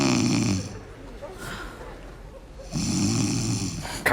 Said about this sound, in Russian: Ну, что ты опять будешь храпеть, я не усну опять.